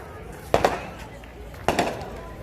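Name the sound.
fireworks exploding by the beach, Ocean City Maryland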